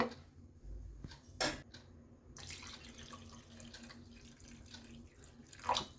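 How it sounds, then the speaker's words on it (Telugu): Water runs and splashes into a pan for several seconds, with a couple of louder clinks and splashes, fairly quiet and steady. "ఇప్పుడైతే వాటర్ వేసుకుందాం."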